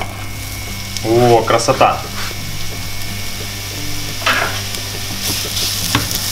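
Chopped onion and carrot frying in oil in a pan, a soft steady sizzle running underneath, with a voice speaking briefly in Russian and some scraping stirring sounds.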